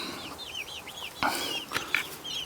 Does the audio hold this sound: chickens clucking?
yes